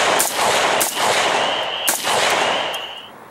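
A rifle fitted in turn with a BCM Gunfighter compensator and a Battle Comp fires a handful of sharp, loud reports in quick succession, each trailing into a reverberant boom, with no talking.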